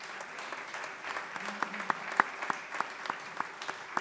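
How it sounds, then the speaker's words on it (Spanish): Applause from a small audience at a live music event in a cultural centre, welcoming a singer-songwriter guest; steady moderate clapping with sharper individual claps standing out, running alone for the full stretch. "Un aplauso, Lucía Merico."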